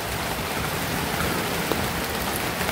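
Heavy rain pours down steadily as a dense, even roar of drops hitting leaves and surfaces, loud and unbroken throughout, with no voices.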